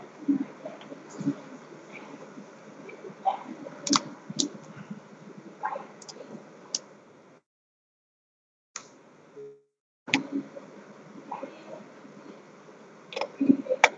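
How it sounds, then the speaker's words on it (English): Clicky keystrokes on a computer keyboard tap out in irregular bursts at close range in a digital image processing lab, pausing briefly near the middle before the typing resumes. "Like I am typing here."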